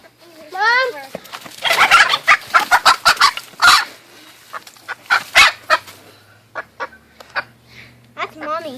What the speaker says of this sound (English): That's mama hen?